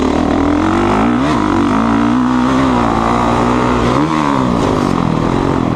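A Honda CRF450R dirt bike engine running loud and close, its revs rising and dipping as the rider works the throttle while riding, with no voices.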